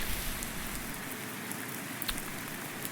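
Steady rain patters in Farming Simulator 19, a dense, even hiss with occasional faint drop ticks throughout, heard alone with no voices.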